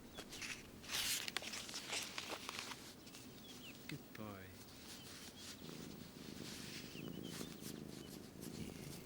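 A wild cat on the Kenyan savannah purrs on a man's lap indoors, a soft low rumble running steadily under faint rustling, bird calls and a brief voice.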